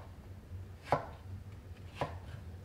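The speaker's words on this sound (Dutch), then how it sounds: "En nu ga ik ervan snijden reepjes." Two crisp knife strokes on a cutting board as a potato is cut into strips for brunoise, evenly spaced about a second apart, close and clear in a quiet room.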